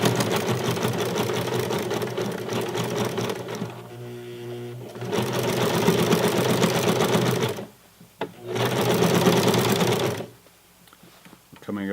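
A sewing machine fitted with a denim needle stitching the thick hem seam of 100% cotton Levi's 550 jeans, a loud steady mechanical hum with rapid needle clatter, pausing briefly twice and straining near the end.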